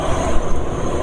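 Worn, rough-running motor vehicle engine with severe vibration, knocking mainly from the front around the cylinder head and camshaft, producing a steady close broadband drone with no talk.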